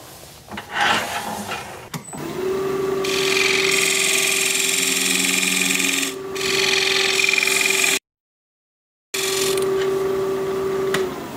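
A 3/8 inch bowl gouge cuts a wooden bowl on a lathe: loud continuous scraping and shaving over a humming motor tone, with a brief dip and a short silent break before cutting resumes.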